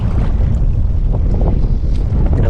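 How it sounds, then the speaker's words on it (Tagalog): Strong wind buffets the microphone at an outdoor fishing spot, a loud continuous low roar with rumbling gusts throughout and no speech. "Lakas ng hangin."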